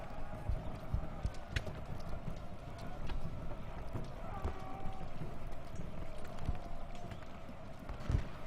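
Cavalry horses gallop in the Civil War strategy game Ultimate General: Gettysburg, a steady, fairly faint clip-clop of many hooves running under low battle ambience with occasional sharper hits.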